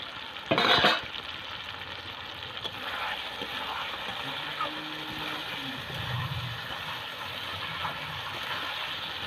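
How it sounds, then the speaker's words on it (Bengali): Boiled potatoes dropped into hot oil to fry in a pan, a loud clatter at the start followed by a steady, close sizzle with occasional stirring. "এবারে দিয়ে দিচ্ছি আলু আলুটাকে আমি ভেজে নিই"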